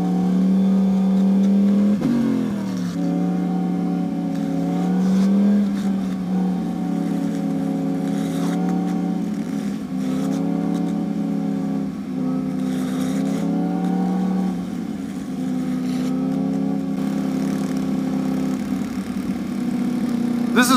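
Single-sided swing arm scooter engine idling and revving, with repeated rises and falls in pitch as the throttle is blipped, steady and close throughout.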